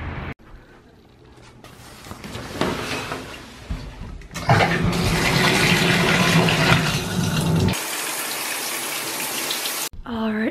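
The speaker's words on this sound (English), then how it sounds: "I'm gonna take a shower." Shower water runs steadily in a home bathroom, a broad rushing spray that swells louder partway through and then drops to a thinner flow before cutting off near the end.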